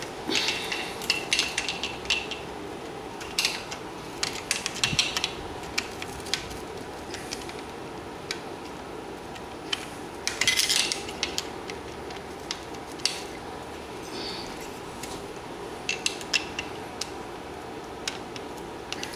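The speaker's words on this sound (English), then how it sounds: "now we'll go ahead and just gotta get this hose clamp off" Metal tools work at a hose clamp while a Yamaha Banshee engine case is taken apart, producing scattered faint clinks and taps over a low steady background hum.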